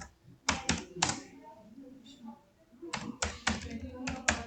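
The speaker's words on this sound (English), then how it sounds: "I will be typing any message" Quick bursts of keystrokes on a computer keyboard come in two clusters of rapid clicks separated by a brief pause, close and fairly quiet, with a voice speaking softly in between.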